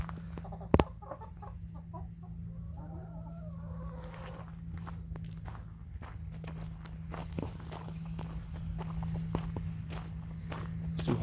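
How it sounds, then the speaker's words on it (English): Chickens cluck softly at close range over a low steady hum, with scattered footsteps and scratching sounds throughout. "Got some chickens in here."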